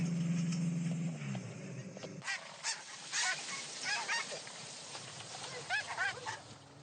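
Geese honk repeatedly in flight, with a scattered series of calls at moderate distance. Early on, a low steady drone sits beneath the birds, then fades as the honking continues.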